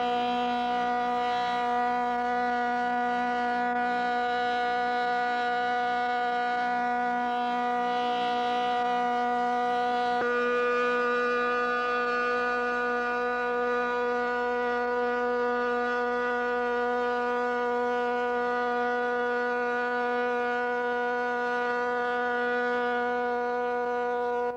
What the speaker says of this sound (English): the largest directional rotating sound beam siren in the world